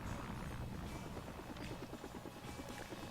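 Helicopter in the Batman Vengeance PS2 game, a faint rhythmic rotor chop pulsing steadily through a noisy, muffled game soundscape.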